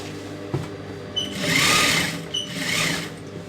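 A sewing machine stitches a silk skirt in two close, steady runs of whirring stitching separated by brief pauses, with light handling noises between them.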